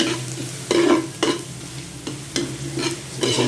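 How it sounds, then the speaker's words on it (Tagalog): Food sautéed in a pan until browned, as a base for Filipino mussel tinola soup, sizzles steadily up close while a utensil stirs and scrapes in repeated bursts. "Gigisa lang natin guys para mas masarap."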